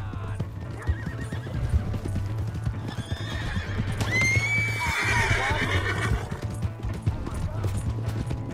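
A horse in Red Dead Redemption 2 clip-clops steadily at a gallop beneath game music and shouting voices, then lets out a loud, drawn-out neigh midway through.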